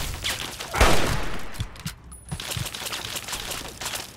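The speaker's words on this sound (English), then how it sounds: "Oh god, I forgot about the turret." Automated turret gunfire in Fallout 3, a rapid burst of fusillade shots with sharp cracks, loudest near the start, followed by scattered further shots.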